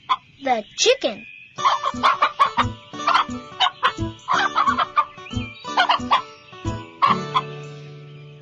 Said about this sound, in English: The chicken.